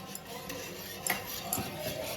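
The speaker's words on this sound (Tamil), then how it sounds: "நம்ம பொடிச்ச மாவை போட்டு நல்லா கிண்டி விட்டுக்குங்க" A utensil clinks and scrapes against a pot while ground rice flour is stirred into water for Thiruvathira kali, with a few sharp taps over a quiet background.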